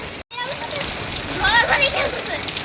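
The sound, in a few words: heavy rain in a storm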